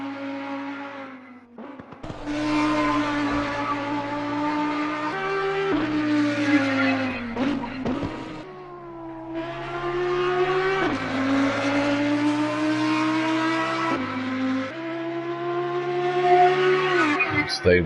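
A race car laps the Brands Hatch circuit, its engine a loud, steady harmonic roar that rises in pitch and drops sharply at each gear change over the whole lap.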